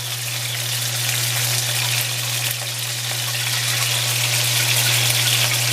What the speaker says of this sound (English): my pieces of meat. Lamb meat, that is. So you want to sear them.